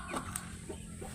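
Backyard chickens, among them a Brahma hen, make short close clucks and a couple of brief calls while being fed, with steady ambient noise underneath.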